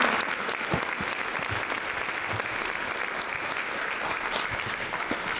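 Steady, sustained applause from an audience at a panel discussion event, a dense wash of many hands clapping continuously at moderate volume with no talk over it.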